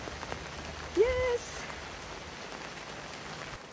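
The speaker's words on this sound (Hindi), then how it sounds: "बारिश इतनी अच्छी हो रही है" Monsoon rain falls steadily in Coorg, a dense, even patter on surfaces that carries through the whole stretch, with a brief spoken word near the start.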